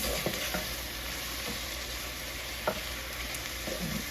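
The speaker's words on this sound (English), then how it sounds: "So we want to stir this" Cabbage soup in a pot being stirred, a steady low simmering hiss with a few soft spoon knocks against the pot, close and fairly quiet with no talk.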